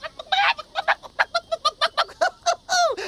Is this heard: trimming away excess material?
no